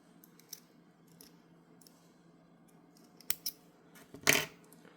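Scissors snip thread on a brick-stitch beaded autumn leaf, giving a few small clicks and then two or three sharp, close cuts, the last one loudest, in a quiet room.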